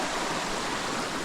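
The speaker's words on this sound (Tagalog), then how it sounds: "May lagas-las doon" Water rushes steadily at Pagsanjan Falls, a dense unbroken roar close by with no gaps and no voices.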